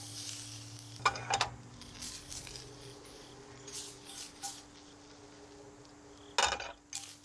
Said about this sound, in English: we're gonna saute our broccoli real quick